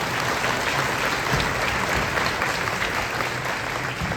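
Steady applause from a sizable conference audience, loud and continuous throughout with no breaks.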